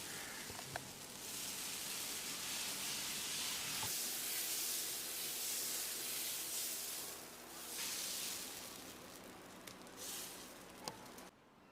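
Banana stem dosa batter spread on a hot griddle gives off a steady, soft hiss and sizzle, with occasional faint taps and scrapes and no talking.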